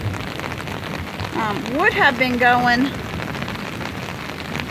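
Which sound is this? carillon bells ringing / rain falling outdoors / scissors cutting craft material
rain falling outdoors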